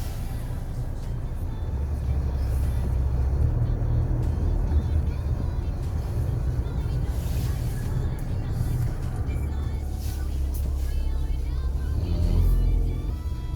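Audi Q3 Sportback, a 2020 model, driving on the road in Suwon, with steady engine and road hum at moderate level, a brief rise near the end.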